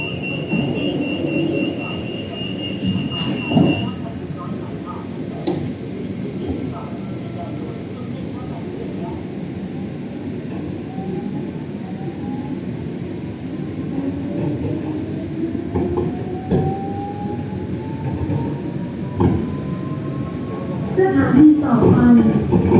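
A Bangkok Pink Line train sits at a station platform with a steady low rumble and rising electric motor whines. A public announcement voice plays over the train noise.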